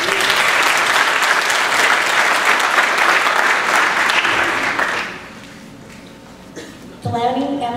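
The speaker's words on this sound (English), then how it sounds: "Big round of applause" Loud, dense applause fills a Verona High School senior awards ceremony for the class of 2013, lasting about five seconds before dying away, after which a voice speaks.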